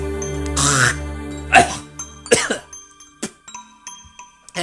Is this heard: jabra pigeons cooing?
no